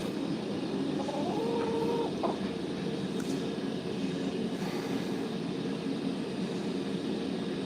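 Backyard chickens give a few faint clucks early on, nearly buried under a loud, steady drone that fills the whole stretch.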